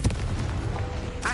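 The Confringo blasting spell from the Hogwarts Legacy video game goes off in a short, booming burst of explosive noise, loud and full-bodied, ending with a brief bright crackle.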